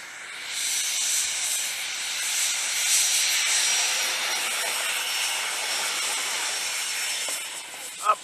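A 3D printed F-86 model jet with a 90 mm ducted fan gives a steady, loud high-pitched whine and hiss that holds for several seconds, ending with a brief sharp bump.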